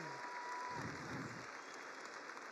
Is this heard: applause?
yes